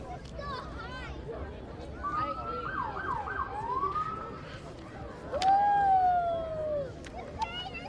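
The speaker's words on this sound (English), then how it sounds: "A little bit of sirens for the crowd." A police car at a nighttime lights parade gives short bursts of siren, wailing and yelping sweeps heard over crowd noise and talk.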